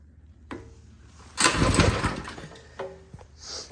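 A small engine on an Axis M200 mini bike, with the choke on, sputters to life in a short burst after a couple of faint clicks, then fades back to a quieter rattle near the end.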